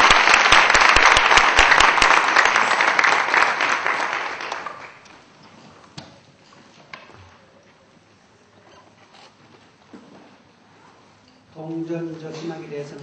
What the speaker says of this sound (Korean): 우리 다시 한번 뜨거운 박수로 환영하도록 하겠습니다.